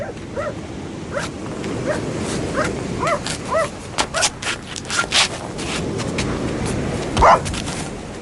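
A dog in a radio drama of Daphne du Maurier's Rebecca gives a series of short barks and yips mixed with whimpers, fairly close, spread irregularly over several seconds amid rustling sounds.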